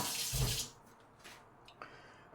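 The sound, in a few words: water being poured into a pot of rice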